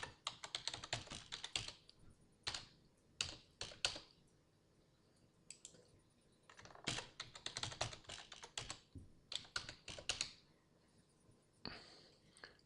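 Keys tapping on a computer keyboard as a password is typed in bursts of quick clicks, with short pauses between runs, close and fairly quiet, no voices.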